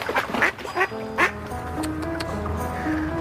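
Ducks quack at a waterfowl hunting hut on the Baie de Canche: several sharp nearby quacks in the first second or so, then a steady background of tonal calls and sounds.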